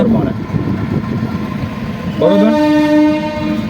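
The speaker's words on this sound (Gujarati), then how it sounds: "ટ્રેન આવી છે" A loud train rumbles close by at Liliya railway station in Gujarat, then a horn blares with a long steady tone over the rolling noise.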